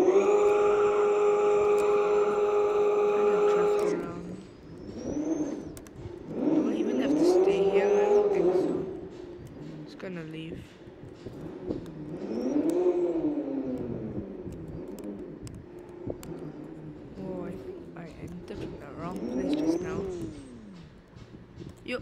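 A car engine in a Roblox car meet, a Porsche, drones loudly and steadily, then revs and whines up and down in rising and falling sweeps as it arrives, with a voice talking over it.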